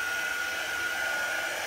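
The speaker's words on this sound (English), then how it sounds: "you can use a hair dryer or a heat tool, whichever you like" A hair dryer blows a steady, loud whine over a chalk craft project, running without a break and with no talking over it.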